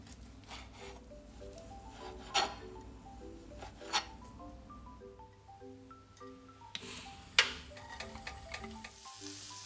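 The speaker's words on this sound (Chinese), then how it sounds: "炒香葱白之后" Scallion whites stir-fry in a wok with a soft, low sizzle, punctuated by a few sharp clinks and scrapes of the spatula, under faint melodic background music.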